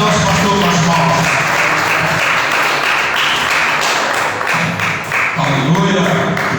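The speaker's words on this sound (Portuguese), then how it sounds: "Recebe o nosso pastor com as palmas." A church congregation claps together in sustained, dense applause that fills the room, loud and close, with voices faintly mixed in beneath the clapping.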